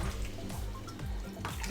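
Water poured into a roasting tray around a beef brisket, a steady splashing, trickling stream close by that runs for nearly two seconds, with no talking.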